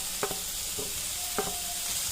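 Vegetables and half a capsicum sauté in a pan, stirred with a few soft scraping strokes over a steady, gentle sizzle, with no voices.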